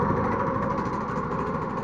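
A Kanuni Mati 125 scooter engine runs with throttle applied, a steady close buzzing drone with a slight rise, loud and alone for a couple of seconds.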